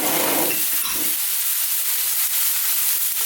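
Onions and garlic-ginger paste hit a hot pan for a vegan black urad dal. A loud, steady sizzle and hiss carry through the whole stretch, with an initial rustle as the ingredients go in.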